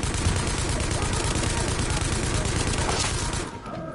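Light machine gun firing in a Tom Clancy shooter game, a loud unbroken burst of rapid automatic shots that cuts off just before the end.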